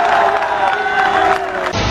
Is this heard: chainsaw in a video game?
no